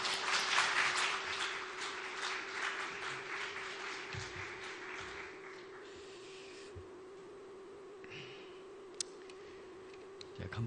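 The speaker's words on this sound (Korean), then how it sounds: "박수로 맞이하겠습니다." A church congregation at a Sunday afternoon service claps in welcome, a loud dense burst at first that thins and fades to scattered claps and quiet room noise.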